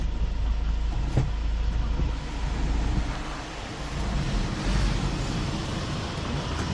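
A 2016 Hyundai Porter 2 Super Cab wing-body one-ton truck with a Euro 5 diesel engine and manual gearbox idles steadily, a low rumbling drone that stays close and even, with slight swells in level.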